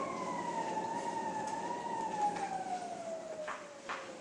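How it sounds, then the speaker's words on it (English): A wailing emergency siren in an old radio drama, a single sliding tone that rises and falls continuously at a moderate distance over a faint background hiss, with no voices. "So why the siren?"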